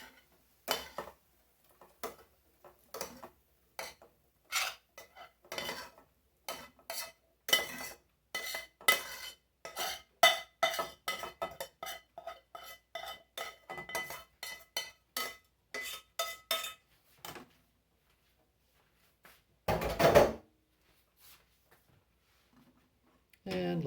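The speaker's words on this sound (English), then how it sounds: "We'll go ahead and add the corn to the potatoes" Corn added to potatoes in a pot for potato corn chowder, giving a run of irregular clinks and scrapes of a spoon against the pot, near and fairly loud, with a short pause and one final burst.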